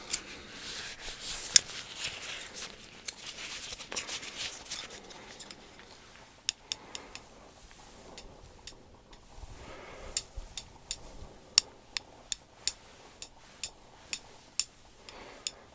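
Light, sharp tapping clicks, scattered and then more evenly spaced, close and fairly faint, with no talking.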